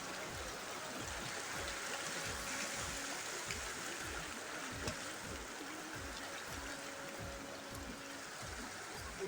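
Cold mountain stream in Basho Valley near Skardu, with water flowing and trickling over rocks in a steady, close wash and no talk over it.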